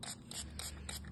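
A cheap plastic spray bottle mists water over sourdough before baking, four quick, faint hissing squirts in a steady rhythm.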